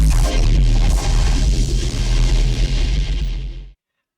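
A granular synth bass rack roars as a thick, gritty, sustained low tone with shifting textured overtones, loud and alone, before cutting off abruptly into silence.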